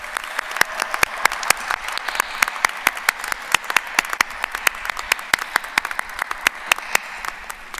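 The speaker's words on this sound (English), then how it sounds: "please join me in offering a round warm of applause to the families, friends, and supporters of our graduates" An audience at a School of Nursing graduation ceremony claps for the graduates' families, friends and supporters, a steady round of sharp, distinct handclaps close by with no talking.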